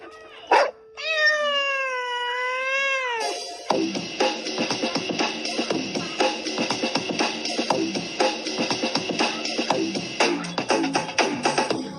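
A cat meows in a drawn-out, rising and falling cry near the start, followed by a steady bed of rhythmic music with no talking.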